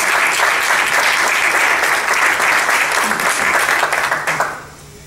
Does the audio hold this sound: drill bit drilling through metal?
no